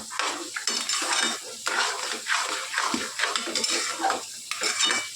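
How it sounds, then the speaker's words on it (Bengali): A spoon scrapes and clinks against a pot as vegetable mixed dalia porridge is stirred on a gas stove, giving irregular close metallic scraping strokes with a faint soft sizzle underneath. "গ্যাসে একটু বসিয়ে দিয়ে আর একটু নেড়ে নিচ্ছি।"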